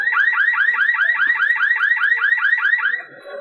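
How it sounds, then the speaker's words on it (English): A man overboard alarm sounds from a boat speaker, triggered by holding an NMEA 2000 digital switching button: a loud, rapid warbling electronic tone repeating steadily for about three seconds before cutting off. "it triggers an alarm, an audible alarm in the speaker"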